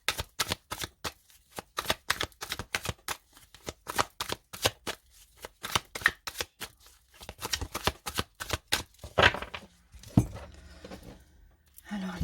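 A deck of tarot cards is cut and shuffled close up, a steady run of crisp riffling flicks and slaps, with a voice speaking over part of it.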